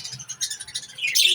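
Lovebirds and budgerigars kept in cages alongside doves give off a quick series of soft, high chirps and tweets, brightening to a busier twitter near the end, fairly close and moderately loud with no talk.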